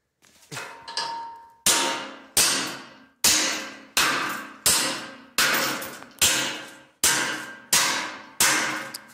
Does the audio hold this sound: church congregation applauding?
no